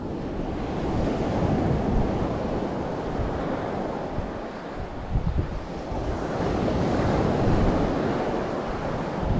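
Surf at M'zouasia beach on Mayotte, a steady, loud wash of breaking waves with heavy wind rumbling against the microphone, swelling slightly at times and with no voices.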